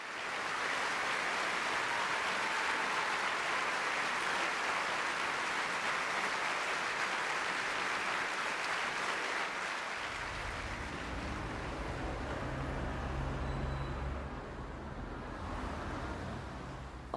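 An audience applauds a Rudolf Nureyev ballet performance, a dense, loud, sustained roar of clapping from a large crowd that carries on for the whole stretch with a lower rumble joining partway through.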